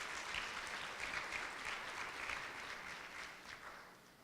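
Audience applause fills a school student recognition breakfast, a steady, fairly faint patter of many hands clapping that fades slightly toward the end, with no talk over it.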